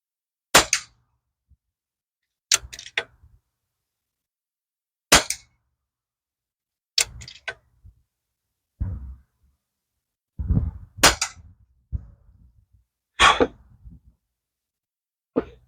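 Shots from a Pinty P-Rifle fired at a can ring out as about eight sharp, separate cracks, irregularly spaced a second or two apart, each with a short metallic ring over silence.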